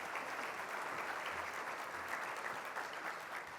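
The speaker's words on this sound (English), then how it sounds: "Let's give them a round of applause as well." Audience at a sports and play equity summit gives a round of applause, a steady, even wash of many hands clapping, heard from a distance and fairly quiet throughout.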